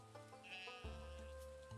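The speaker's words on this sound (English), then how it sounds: "So let's get two more sheep." Sheep bleat in the Stardew Valley farming game, one wavering cry followed by a second as the game's soft background music plays, with no voices.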